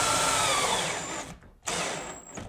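Power drill driving a lag bolt into a wall while mounting a TV, a steady close whirring that sags as the load builds, stops briefly, then spins up again and keeps running.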